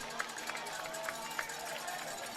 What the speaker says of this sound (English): As the crowd ringing the cowbells and the Christ School side getting real loud and rowdy